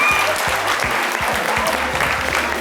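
A French studio audience claps loudly and steadily, a dense wash of applause with low thumps from a lively midday show, continuing without pause for nearly three seconds.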